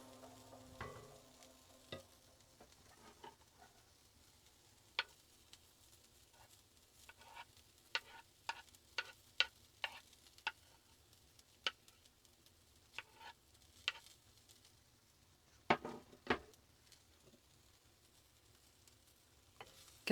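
Onions and garlic frying in a single pan on a campervan stove, with a soft continuous sizzle broken by scattered sharp ticks and clicks, likely from stirring, heard close up and without any talk.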